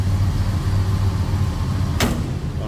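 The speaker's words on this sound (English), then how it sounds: "Oh, nicely that door closes" A 1957 Chevrolet Bel Air four-door sedan's door shuts with a single solid thud, heard once against a steady low engine rumble from the 350 V8 idling nearby.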